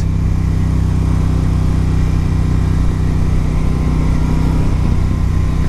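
Moto Guzzi motorcycle engine running hard under acceleration, a steady loud low drone with a constant rumble throughout, no voices.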